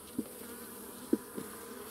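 Honeybees buzzing at an open beehive during hive inspection, a steady faint drone with a few brief louder passes as single bees fly close by.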